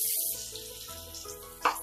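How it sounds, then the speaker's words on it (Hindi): Potato pieces dropped into hot oil in a kadhai for dum aloo, giving a close, hissing sizzle after a brief quiet start, with a sharp splash-like burst near the end. "तेल गर्म हो गया है और हम इसमें ये आलू डाल देंगे"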